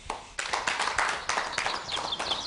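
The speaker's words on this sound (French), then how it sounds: "Je pense que vous pouvez vous applaudir." A small group of soldiers recovering from psychological wounds claps for themselves at a gathering, with irregular, fairly close hand claps and some bird-like chirps toward the end.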